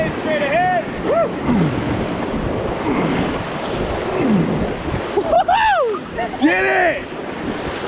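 Whitewater on class 3 rapids of the Wenatchee River, a loud rushing roar as a raft pushes into a wave, with excited shouts and whoops from the crew over the water.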